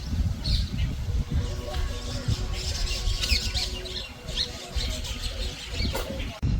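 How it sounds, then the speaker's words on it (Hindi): Small birds chirp and squawk intermittently around Pij Lake, a steady outdoor ambience with soft background rumble and no talking. "यहाँ आपको मिलेगी शांति और पक्षियों की चहकने की आवाज़"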